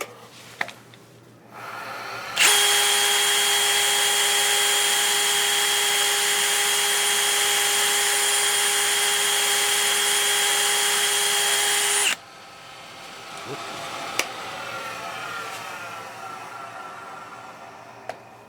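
A turned pizza cutter handle is sanded on a lathe at 120 grit, a loud steady whine with strong tones that holds for about ten seconds and cuts off sharply, leaving quieter room noise with a few clicks.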